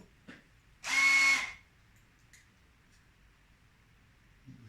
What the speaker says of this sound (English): Now we can drill a hole in these.